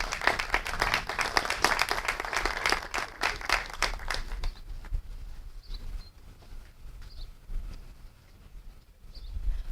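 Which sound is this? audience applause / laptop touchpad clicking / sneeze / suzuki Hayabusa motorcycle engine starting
audience applause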